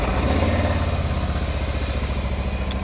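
A Harley-Davidson motorcycle engine labours in the cold, a loud, close, rhythmic chugging crank with pulsing low thumps that never catches into a clean idle.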